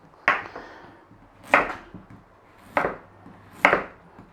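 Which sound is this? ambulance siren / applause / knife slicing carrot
knife slicing carrot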